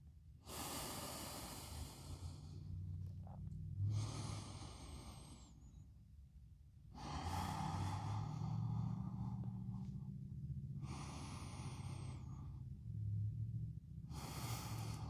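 Slow, deep breaths during a yoga flow: long, airy inhales and exhales alternate in a steady rhythm, close and quiet, with short pauses between breaths.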